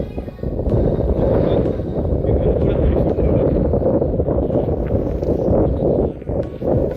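Strong wind buffets the microphone on a trek up Torna Fort in the Sahyadri hills, a loud, continuous low rumble that rises and falls, with voices faintly underneath.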